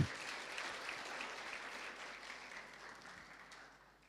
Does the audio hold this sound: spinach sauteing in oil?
no